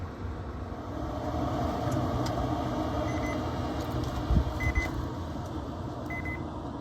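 Short high electronic beeps from a meat thermometer alarm sound three times at spaced intervals over a steady background hum of a pellet smoker, with a couple of soft knocks in between.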